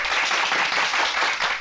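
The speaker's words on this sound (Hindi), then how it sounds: "बजाओ ताली" Crowd at a political rally bursts into dense, continuous clapping on command, a loud and busy patter of many hands throughout with no voices.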